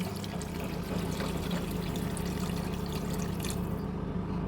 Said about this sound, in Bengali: এটাতে আমি জল দিয়ে দিচ্ছি